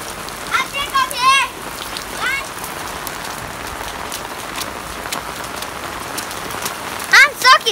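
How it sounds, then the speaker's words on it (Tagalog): Heavy rain pours steadily on surfaces outdoors, a dense constant hiss throughout, with brief speech and cries from people near the start and again at the end. "Kasi ulan-ulan sa amin."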